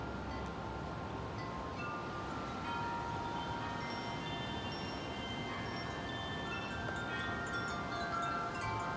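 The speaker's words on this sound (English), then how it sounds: "It was that super strong wind that passed us." Strong, steady wind roars and buffets the microphone outdoors on a windy day, wind chimes faintly tinkling above a dense, continuous rumble that holds near and loud throughout.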